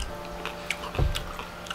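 Soft, close crunches of someone chewing crunchy chicken chunks in coconut curry, a few faint irregular bites over a quiet background hiss.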